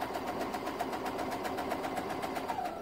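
A sewing machine stitching a seam on a quilt with Y-shaped seams, a steady fast mechanical whirring and rhythmic needle clatter, close and continuous with no talk.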